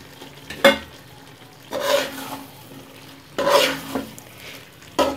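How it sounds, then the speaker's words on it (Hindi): A spoon stirs potatoes, peas and round gourd in a pot, with four separate scraping strokes against the metal and a light sizzle underneath, close up and with no voices. "इसको अच्छी तरह से मिक्स करेंगे।"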